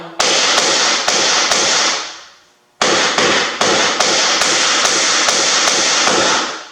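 A child hammers nails into a wooden bat house, striking in a steady run of loud, close blows with a short pause midway.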